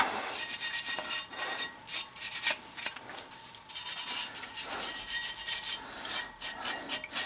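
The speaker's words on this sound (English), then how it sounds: "I'm really not brushing it very hard or anything like that" Wire brush scrubbing over rust-loosened metal after an Evapo-Rust soak, a steady run of rapid raspy strokes in bursts, close and fairly loud, with brief pauses between passes.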